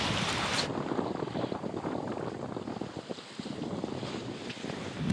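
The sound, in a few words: wind picking up while sailing around Guadeloupe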